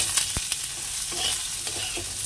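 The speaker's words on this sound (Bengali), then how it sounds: "একটুখানি ভেজে নিই বেগুনটা।" Brinjal sizzling in a hot pan, with a few sharp clanks and scrapes of stirring over a steady hiss of frying.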